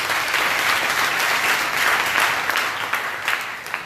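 A church congregation applauds the Lord during a Sunday morning worship service, steady clapping from a crowd filling the whole moment, loud and sustained, tapering slightly at the end.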